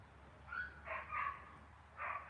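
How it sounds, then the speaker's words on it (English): A dog named Spike gives a few soft, short barks and yips, four brief bursts spaced over a couple of seconds, fairly faint against a quiet room. "Oh no, here goes the dog."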